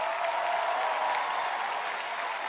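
Television studio audience applause on a variety show, an even, continuous wash of clapping at moderate loudness.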